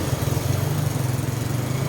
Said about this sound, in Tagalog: Nasa tricycle kami ni Mother Earth kasi pupunta kami sa laboratory ni Pa